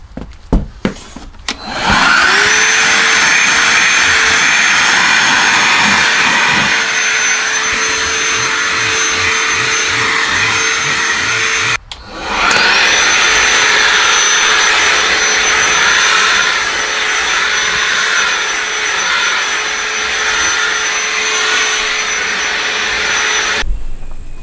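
A DeWALT handheld vacuum cleaner switches on with a rising whine and runs loud and steady, cuts off briefly near the middle, then starts again and keeps running close to the microphone.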